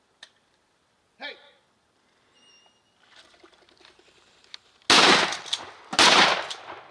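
Shotgun blasts ring out on a Kansas duck hunt, two loud close shots fired about a second apart after quieter rustling and faint calls.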